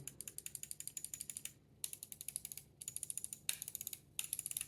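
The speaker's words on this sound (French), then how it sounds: "c'est des clics, des interrupteurs de chez Omron" Rapid, crisp clicks of Omron switches on a Cooler Master MM710 mouse in quick bursts, close up and sharp, with short pauses between the runs.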